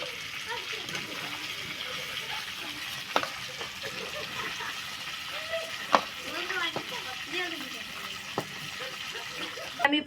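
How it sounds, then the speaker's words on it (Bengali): Chicken meat frying in a pan for a Bengali chicken recipe, a steady sizzle with occasional stirring scrapes and clinks, close and fairly quiet. "মাংস ভাজা হয়ে গেছে,"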